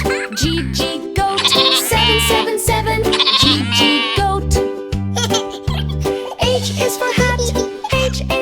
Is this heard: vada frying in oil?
no